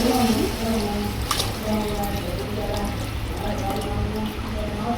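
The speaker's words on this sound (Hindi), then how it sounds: "तो मैं पानी शामिल करूँगी।" Water is poured into a cooking pot of fried meat, a steady loud rushing pour that runs throughout, with a faint voice or call in the background.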